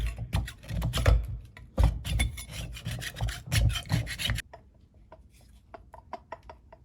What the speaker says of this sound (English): might just file that down before we start